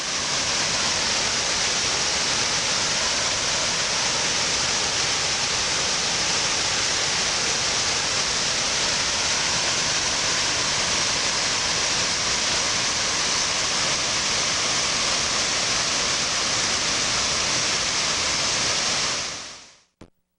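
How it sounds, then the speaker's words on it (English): A waterfall in a park pours water over the falls after a dry spell, a dense steady rushing roar that holds constant throughout before cutting off abruptly at the end. "it's nice to see some water on the falls at last."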